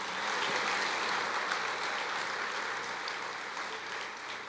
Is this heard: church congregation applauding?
yes